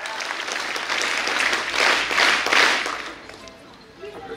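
Lively applause at a school career-guidance felicitation ceremony as a former village sarpanch is honoured, building to a peak of brisk clapping over a few seconds before tapering off, with a voice faintly underneath.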